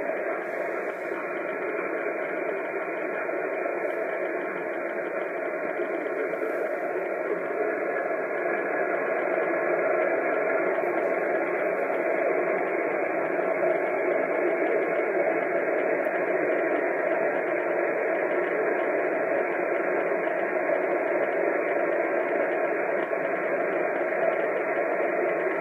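Steady band-limited hiss of shortwave static from atmospheric disturbance on 4885 kHz, with faint, garbled voice traces of a broadcast buried underneath, continuous and even throughout.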